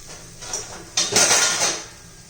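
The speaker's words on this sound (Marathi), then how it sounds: "आता झाकण ठेवूया" A metal lid is set down onto a pan of pea and gram-flour flatbread (vatana besan poli) cooking in oil, giving a short clatter of metal on metal followed by a brief rattle, close and alone.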